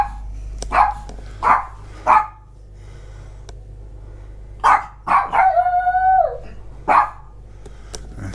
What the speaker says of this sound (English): this is a continuation of the dog's howling because the lift man has come to service the lift